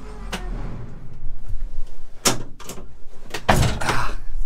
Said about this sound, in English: Kick the doors open